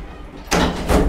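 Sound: Thyssen hydraulic elevator doors sliding closed

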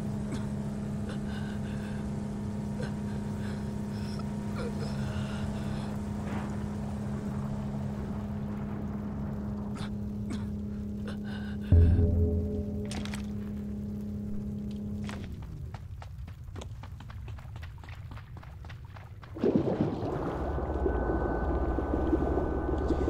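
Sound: vehicle driving in Ring of Elysium video game

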